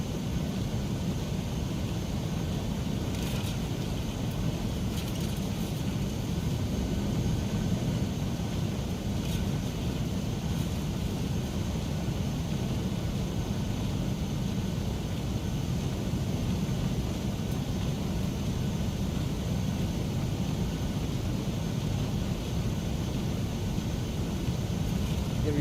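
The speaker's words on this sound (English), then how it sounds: "Listen to these beautiful CFMs by Mango Studios." Boeing 737-300 CFM jet engines in a flight simulator, a steady loud broadband roar with a low rumbling drone, continuous and unchanging throughout with no talk.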